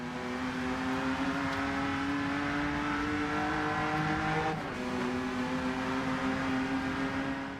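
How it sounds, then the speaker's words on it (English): A BMW M2 engine in a racing video game hums at a constant pitch, flat and thin, smooth and continuous, with a brief shift midway and no talking. "Just listen to how flat and anemic that BMW M2 sounds."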